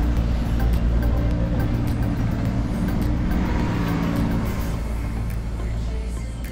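Car traffic on a street in Utrecht during roadworks with diversions, a steady low rumble of passing vehicles close by, continuous and fairly loud throughout with no talk over it.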